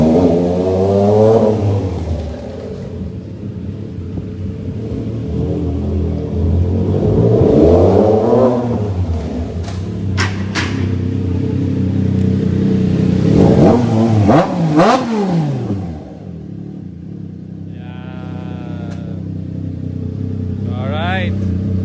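Triumph Trident 660 motorcycle with an aftermarket exhaust, revved repeatedly up and down in sweeping bursts, loud and close, under people talking throughout.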